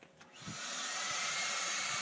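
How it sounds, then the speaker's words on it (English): A shop vacuum hooked to a circular saw switches on after a click, its motor rising into a loud, steady broadband roar that holds close by with no talking. "So I'm going to turn the vacuum cleaner on now"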